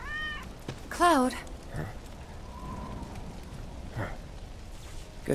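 A cat in Final Fantasy 7 Remake gives one short, clear meow near the start, followed by quiet ambient game noise with faint rain-like hiss and scattered soft sounds.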